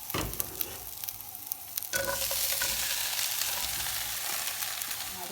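Cooked tapioca dropped into a pot on a stove: a few clattering knocks and scrapes, then a bright, steady hiss and sizzle from the pot that holds to the end.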